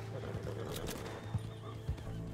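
A horse neighs and whinnies in Red Dead Redemption 2, mixed with the clip-clop of hooves and game ambience, moderately close, with a voice speaking over it.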